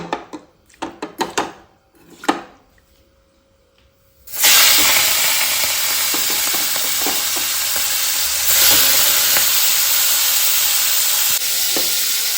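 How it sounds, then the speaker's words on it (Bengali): Cumin seeds tempering in hot oil for a dish of raw jackfruit and shrimp: a few clinks and stirring knocks, then a loud, steady, close sizzle and hiss that continues without letup. "তেলে জিরে ফোড়ন দিয়েছি"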